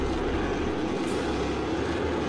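Engine of the Millennium Falcon in the Star Wars game Rogue Squadron, a loud, steady, unbroken roar with a deep low rumble that holds constant throughout, with no talking.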